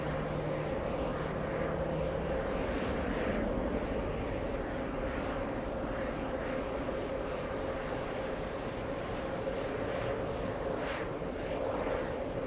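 A JetBlue jet airliner arriving from Fort Lauderdale roars on approach to JFK airport, a loud continuous engine rumble and whine sustained throughout, heard from a busy hotel pool bar.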